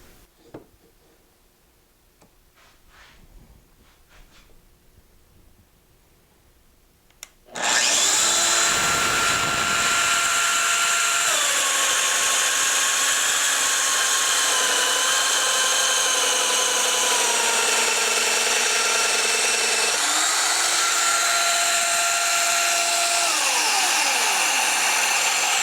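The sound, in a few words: Festool Domino XL DF 700 joiner cutting a mortise in wood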